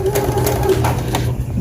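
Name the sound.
sewing machine stitching fabric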